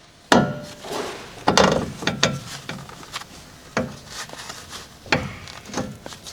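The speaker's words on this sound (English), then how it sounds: "Use the 17mm wrench to rotate the ball joint separator screw. Separate the ball joint from the knuckle." A ball joint separator driven by a 17mm wrench forces a Dodge Ram ball joint out of its steering knuckle, producing a series of sharp metallic knocks and ratcheting scrapes at uneven intervals, close and fairly loud with quieter shuffling between them.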